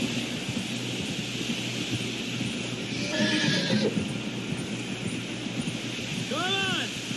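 A horse whinnies in Red Dead Redemption 2, a short rising-falling neigh near the end over a steady bed of game ambience with rain and wind, with a brief burst of movement noise in the middle.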